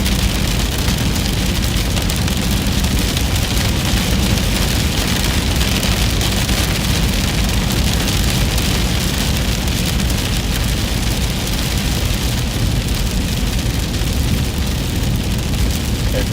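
Steady, loud rain pours down during a storm chase in a tornado-risk area of the Dixie Alley region, a dense unbroken hiss with no pauses and no voices.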